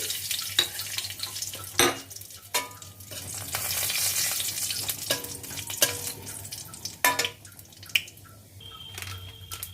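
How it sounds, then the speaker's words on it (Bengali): Dried red chili, black cumin and fennel seeds frying in hot oil as a tempering for a Bengali beto shaak curry with potato, brinjal and bori, giving a soft steady sizzle broken by sharp clinks and scrapes of a spoon against the pan. "এবার এর মধ্যে দিয়ে দেব শুকনো লঙ্কাটা দিয়ে দিলাম আর দিয়ে দেব কালো জিরে আর মৌরিটা ফোড়নটাকে ভেজে নিচ্ছি"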